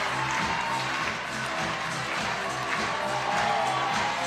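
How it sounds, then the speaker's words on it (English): Applause from the crowd at a lead climbing semi-final in Prague, steady and dense for the whole stretch, with a faint commentator-like murmur underneath. "Getting a big round of applause."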